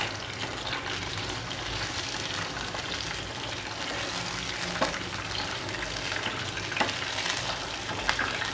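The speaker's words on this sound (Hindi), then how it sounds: "चिकन को अच्छी तरह फ्राई होने देंगे ताकि इसका जो पानी है वो ड्राई हो जाए।" Chicken fries with curry leaves in a pan for nihari, a dense, continuous sizzle with a few sharper pops, close and steady throughout.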